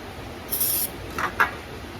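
Two short hissing spray bursts of cleaner from a pump bottle onto a Stihl chainsaw carburetor needle, close by, with a brief pause between them against quiet background noise.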